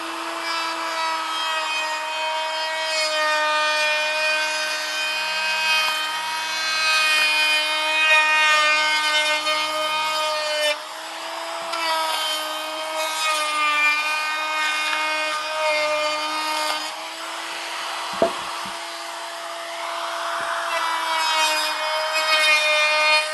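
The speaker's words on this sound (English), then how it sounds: "in this case I'm going to use a power tool" A power tool whines steadily at close range, its pitch holding mostly constant with slight dips as it rounds over the wooden edges of a tool tote, running continuously throughout.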